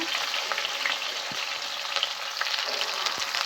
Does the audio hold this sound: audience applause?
no